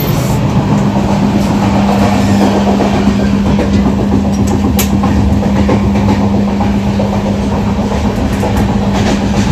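Railway coach rolling along the tracks, heard from inside the carriage: a loud, steady rumble with a constant low hum and continuous rattling wheel noise, no talking.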